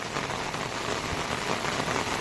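Heavy monsoon rain pours down on a village road in Kuhe Chimbipada near Bhiwandi during flooding, a dense, even hiss of drops striking surfaces that stays constant throughout, with no voices.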